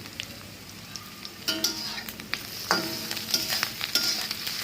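Lightly salted bottle gourd peels frying in oil, a steady sizzle broken by bursts of stirring and clinks of a spatula against the pan.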